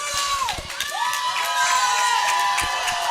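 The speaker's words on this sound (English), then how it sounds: "This crowd to our left for the Chippewas is loud right now." Loud Central Michigan Chippewas hockey crowd cheering and whooping during a game against Michigan State, a dense continuous roar with shrill shouts and whistles rising above it throughout.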